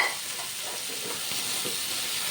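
Okra dropped into hot oil in a pan for a besan and potato curry, giving a steady bright sizzle and hiss with faint stirring, close and moderately loud.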